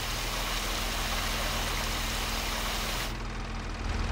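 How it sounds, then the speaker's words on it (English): Tip-side sprayers water orchard rows in the farming game Hof Bergmann, giving a steady, loud, rushing spray of water with an engine-like hum beneath, continuous throughout and shifting slightly near the end. "we're now going to be able to water both sides of the row"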